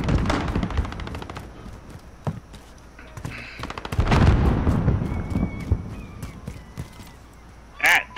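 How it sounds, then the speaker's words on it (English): Modern Warfare gameplay carries rapid bursts of automatic gunfire, then a heavy grenade blast with a rumbling tail at mid-clip, followed by lighter shots and a final loud burst, close and punchy. "That's a random grenade, and that's gonna hurt."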